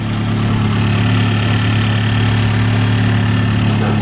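A Honda Civic Type R fitted with an Eventuri intake idles loudly and steadily up close, a constant low engine drone with no change in pitch and no talk.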